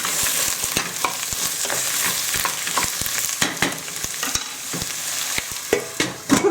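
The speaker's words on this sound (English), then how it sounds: "Give them a stir." Vegetables for a spicy stew are stirred in a hot pan, a steady sizzle of frying broken by repeated sharp scrapes and clacks of the utensil against the pan, close and fairly loud.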